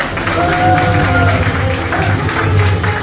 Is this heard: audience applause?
yes